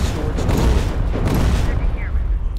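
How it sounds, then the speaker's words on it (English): A loud explosion erupts in the Terminator Resistance video game, a dense, sustained roar of blast and debris amid gunfire-like crackle, close and filling the whole moment. "Explosion!"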